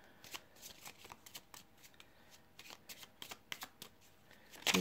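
Sibilla fortune-telling cards are shuffled and drawn, giving soft quick riffling and flicking bursts close by, quiet and irregular, with a sharper card snap at the end.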